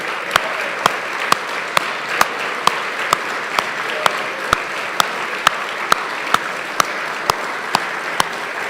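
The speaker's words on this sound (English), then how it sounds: "We'll give you the biggest round of applause to begin the night." A room full of guests at a high school award ceremony applauds the winners, a sustained roar of clapping punctuated by sharp, evenly spaced loud claps keeping a steady beat throughout.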